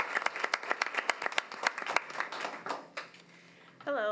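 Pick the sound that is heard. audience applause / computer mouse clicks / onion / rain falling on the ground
audience applause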